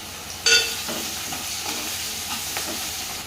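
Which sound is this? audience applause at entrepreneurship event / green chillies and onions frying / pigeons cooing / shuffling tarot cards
green chillies and onions frying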